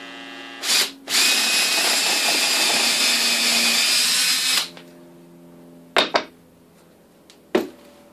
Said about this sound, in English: I've got to drill a smaller hole